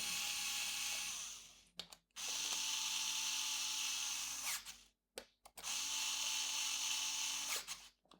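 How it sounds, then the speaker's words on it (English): Parkside PASD 4 B2 insulated electric screwdriver undoing screws: three sustained high whirring bursts of the motor, each a couple of seconds long, separated by short quiet gaps and faint clicks, heard up close. "Let's try undo those two screws."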